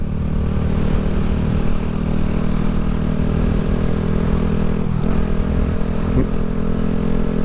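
A Honda Grom small-displacement motorcycle rumbles along steadily while being ridden on a road in New Mexico, its engine drone loud and continuous with a slight wavering of pitch and no voices.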